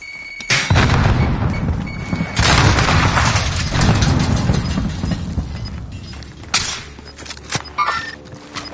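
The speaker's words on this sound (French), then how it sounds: "Lance une grenade!" In the video game Warzone, a heavy grenade blast booms close by, followed by rattling gunfire and further loud explosions that fade into scattered shots and clicks.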